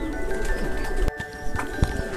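A German double crest pigeon gives short cooing calls amid a noisy pigeon-keeping setting, with a few sharp knocks nearby.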